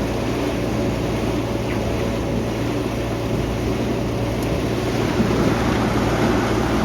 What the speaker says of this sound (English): Next tractor's just arriving.